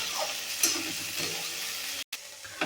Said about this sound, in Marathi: सर्व तुकडे इथे आपल्याला असे अल्टीपल्टी करून एकदम खमंग डागडाग येईपर्यंत भाजवून घ्यायचे आहेत